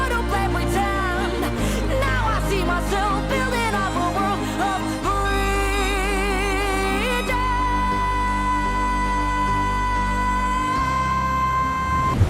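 A Eurovision 2023 entry for Estonia plays as a continuous stretch of full, dense music, with sung vocal melody over steady low accompaniment, loud and unbroken throughout.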